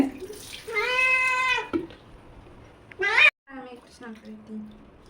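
A cat meows loudly and plaintively while being bathed, with a long drawn-out cry, then a shorter sharp one and a few fainter whimpers, over faint water sounds and occasional quiet human talk.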